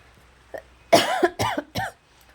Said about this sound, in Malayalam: നല്ല ചുമയെല്ലാം വരുന്നുണ്ട്